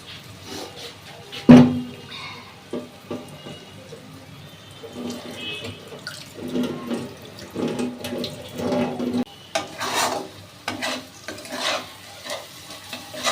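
Water poured into a pan of cooking onion and poppy seed paste: a faint sizzle and wet stirring and scraping that build into bubbling, with an occasional clank of a utensil against the pan.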